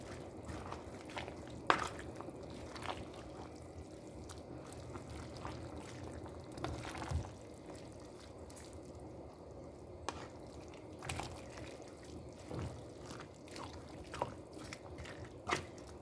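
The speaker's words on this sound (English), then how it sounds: "go ahead and add a little bit more water" Water is poured into a pot of boiling collard greens, a steady low liquid wash with scattered drips and soft clinks, fairly faint and continuous throughout with no talking.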